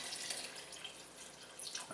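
Four cups of room-temperature water poured from a container into a soup pot for cream of mushroom soup, a steady splashing stream over about two seconds with no talking.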